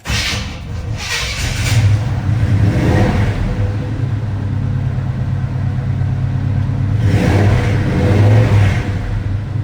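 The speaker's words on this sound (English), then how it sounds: "I'm gonna give it a tap or two, and hit the key." A 1980 Chevrolet C-10 short-bed truck with headers cranks and fires up, then holds a loud, steady rumble with two rising revs near the start and again near the end, close by and with no talk.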